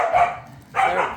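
Dogs playing indoors bark in two short bursts separated by a brief pause, close and fairly loud.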